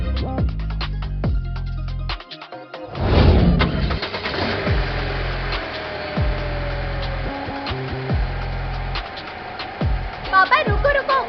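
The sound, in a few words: car engine starting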